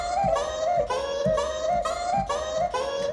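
A pitched-up vocal one-shot from the Abstract Vox synth plugin repeats about four times in a steady loop, each a short, bright, chant-like sung syllable with a gliding pitch.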